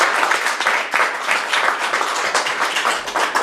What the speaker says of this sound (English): Big applause for that.